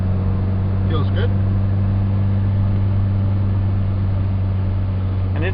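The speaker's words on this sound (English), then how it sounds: "And it is a high revving motor" A 1984 VW Jetta engine, a high-revving motor, runs at a steady, loud idle nearby, its low hum constant throughout, with a brief rise in pitch near the start and end.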